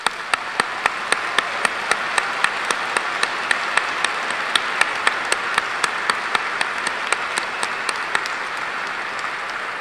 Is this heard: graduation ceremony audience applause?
yes